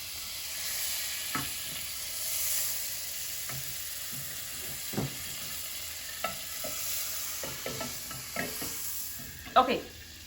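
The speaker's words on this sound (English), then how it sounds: "tablespoon of butter goes into my soup pot." A tablespoon of butter sizzles steadily in a hot soup pot over low heat, with faint stirring and a few sharp scrapes and clinks of a utensil against the pot.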